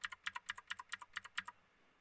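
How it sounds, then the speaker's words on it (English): Rapid, crisp clicking of keys on a Keytron computer keyboard, a steady burst of typing close up that stops after about a second and a half. "this keyboard, it's so good, listen to it, ready?"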